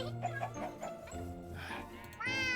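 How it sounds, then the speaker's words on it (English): Several Minecraft cats meow in a modded game world, a few short mews in a row, the last one louder and clearer, while someone talks over them. "Two more cats."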